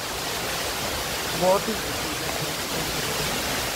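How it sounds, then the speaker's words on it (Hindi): The Kuyemari waterfall at Keshkal, Kanker, roars as a constant broadband rush of falling water, loud and close throughout, while a person speaks briefly over it. "कितना पानी बह रहा है, लुक एट दिस"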